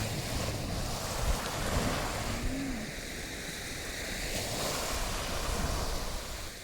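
Sea waves washing onto a sandy beach, a steady broadband roar of surf with slow swells of rising and falling intensity, heavy wind buffeting the microphone, and no talking.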